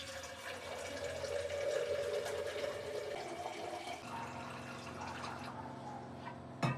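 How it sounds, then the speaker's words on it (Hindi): Water running over leafy green vegetables being washed in a kitchen, a steady splashing flow with drips and a shift in tone partway through as the stream changes, ending with a brief clatter. "कम से कम 4-5 पानी से हरी सब्ज़ी को धुलना पड़ता है"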